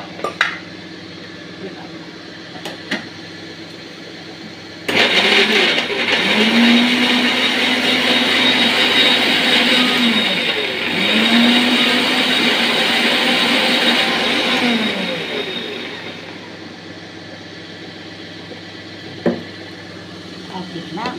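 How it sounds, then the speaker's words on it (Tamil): A mixer grinder whirs as its jar grinds, a loud steady motor roar that starts abruptly, dips briefly mid-run and winds down, with quieter kitchen sounds before and after. "இதை பாருங்கள், ஜாடியில் அரைக்கிறேன்."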